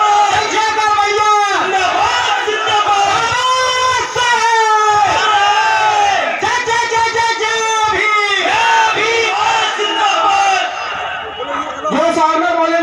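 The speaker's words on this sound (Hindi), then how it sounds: "जोरदार तालियों से स्वागत किया जाए, जोरदार तालियों से।" A large crowd at an outdoor political rally in India roars and cheers in sustained loud waves, with shouts and chanting voices rising over the din and an amplified announcer's voice urging applause.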